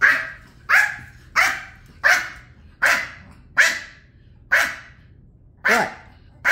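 A dog barks eight times in an even rhythm, about once every three-quarters of a second, each bark sharp and loud at close range, with quiet gaps between and a calm lakeside setting behind.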